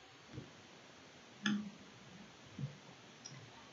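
A computer mouse gives a few faint, sparse clicks in a quiet room, with one sharper click followed by a softer one a second later.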